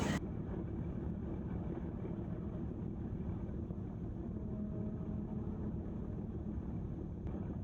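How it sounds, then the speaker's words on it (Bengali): Passenger launch Miraj 1, bound for Sureshwar from Dhaka, rumbles steadily on the river with a low continuous engine drone and wind buffeting the microphone throughout, no voices. "সুরেশ্বর যাচ্ছে মিরাজ ১ লঞ্চ, ঢাকা থেকে ছাড়ে দুপুর ২টায়"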